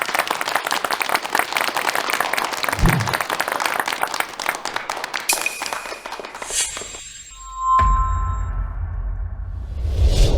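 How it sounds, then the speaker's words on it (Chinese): A crowd at a village investment meeting claps warmly to welcome an entrepreneur, a dense burst of applause for about five seconds. It then gives way to a swoosh, a ringing tone and a low rumbling effect. "让我们用最热烈的掌声欢迎京都的企业家林芝林总。"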